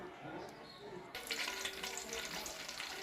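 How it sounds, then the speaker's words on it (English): Steady crackling sizzle of onion frying in hot grease, growing louder and denser partway through, like something hitting hot oil, with no talking. "You see that onion is sizzling? That tells me the grease is hot."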